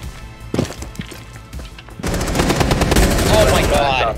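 Rapid automatic gunfire from Rainbow Six Siege gameplay: a few scattered shots, then a sustained dense burst of bursting rounds, with a player's voice talking over the shooting.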